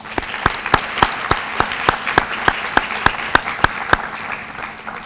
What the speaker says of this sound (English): Could we give them a little round of applause?